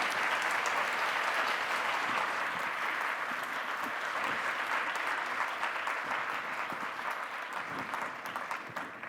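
An audience applauds Aung San Suu Kyi at a student question session in Hawaii, giving a long, steady round of clapping from a crowd that stays dense throughout with no clear speech.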